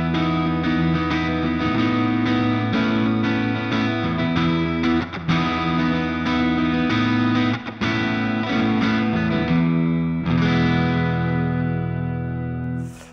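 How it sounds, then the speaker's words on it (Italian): Electric guitar with a P90 pickup playing sustained chords and riffs through effects, moving between clean and distorted tones, loud and continuous throughout, with no voices. "vi voglio far sentire prima i puliti e poi i distorti, perché questo P90 mi ha fatto forse lui innamorare dei P90."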